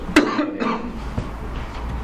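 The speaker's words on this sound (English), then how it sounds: "So, no, I was coughing." A single sharp cough, followed by a quieter second cough and faint throat noise in a quiet room during a committee meeting.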